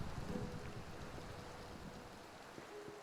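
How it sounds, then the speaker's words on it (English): Steady rain falls in the Minecraft video game, a soft, even hiss of drops that continues alone and fairly quietly throughout. "I think it's just rain."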